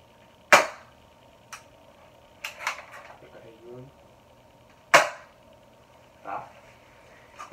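Two sharp snapping shots from a polymer M4A1 airsoft rifle, a few seconds apart, with smaller clicks and rattles of the mechanism in between, close and crisp.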